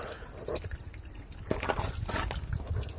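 Water flushing through the brake pipes of a boat trailer, a close, continuous splashing trickle with irregular drips and surges, spattering harder toward the end.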